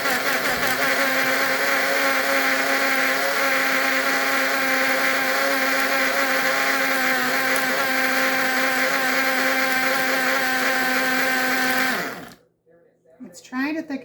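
A countertop blender runs loud and steady for about twelve seconds, blending a thick protein pudding of strawberry, banana and chocolate, then cuts off abruptly, leaving quiet handling noises.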